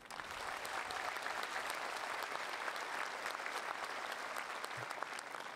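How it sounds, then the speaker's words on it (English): Steady applause from a large ceremony audience at the International Tennis Hall of Fame induction, filling the whole stretch evenly with no speech over it. "Applause."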